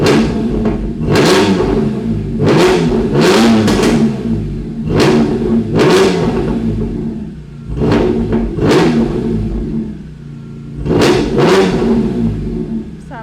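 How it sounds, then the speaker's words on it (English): A BMW E46 M3 engine with Valvetronic Designs exhaust valves open revs hard again and again in loud, sharp bursts with brief idling between them, the exhaust barking close by. "And now I'm going to rev it out again."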